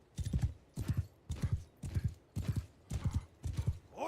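Horsemen ride in the video game Bannerlord, with hooves clip-clopping in seven regular galloping bursts, close and clear, and a brief neigh at the end.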